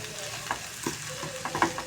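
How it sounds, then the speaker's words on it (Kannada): Cooked vermicelli is stirred into masala in a pan: a few scraping strokes with a soft sizzle beneath, close and fairly quiet. "ಅದಕ್ಕೆ ಚೆನ್ನಾಗಿ ಮಿಕ್ಸ್ ಮಾಡ್ಕೊಳ್ಳೋಣ."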